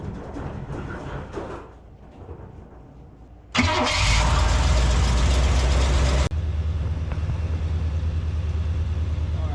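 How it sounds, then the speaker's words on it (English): A 1981 Corvette engine cranks and catches, roaring up loudly before settling into a steady, rumbling idle, close and continuous after a quieter stretch of background noise. "So let me get the car started and we'll see what happens."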